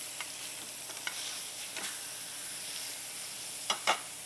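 Rib eye steaks sizzle in a hot anodized aluminum pan, not non-stick, after being flipped, a steady close frying hiss with a few sharper crackles and scrapes, no talk.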